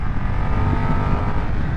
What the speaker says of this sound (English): But this is a great little twin-cylinder engine